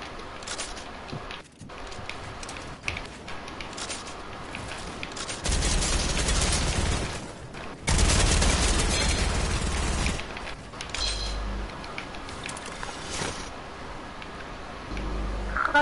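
Gunfire in a video game, heard as bursts of loud, dense shooting that rise and fall across the stretch, with a few sharp single shots and quieter gaps between them.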